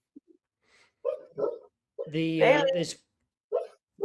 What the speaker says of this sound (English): my dog is dreaming, and I can't tell if you can hear that right now, but she's very loud and she's right next to me